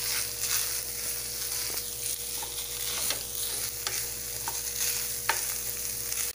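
Seasoning being stirred into shredded chicken pastil in a pan, a steady close scraping and faint sizzling texture with occasional sharp clicks of the utensil against the pan, no voices.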